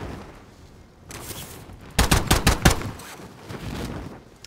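A tight cluster of loud, close gunshots rings out in Call of Duty Modern Warfare, five or six sharp cracks in quick succession, with quieter shots trailing off before and after.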